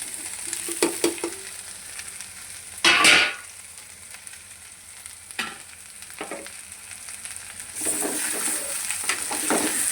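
Bitter gourd pieces frying in a hot pan for a tamarind curry, a steady sizzle with louder bursts as pieces land and are stirred, swelling near the end, with no talking.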